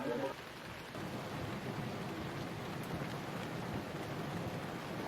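Heavy rain pours steadily as a dense, even hiss that fills the whole stretch, with a brief low rumble near the start and no voices.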